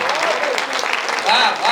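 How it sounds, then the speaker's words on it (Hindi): Audience applause at a Hindi kavi sammelan poetry recital, a burst of clapping from the crowd, with some voice or tonal sound mixed in and swelling toward the end. "तालियां कम हैं, जरा मिलकर बजा दीजिए"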